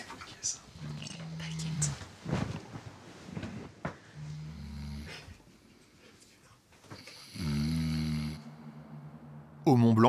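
A climber snores in a mountain refuge on Mont Blanc, with several low, rumbling snores at irregular intervals that grow longer and louder, while people whisper and talk quietly in between.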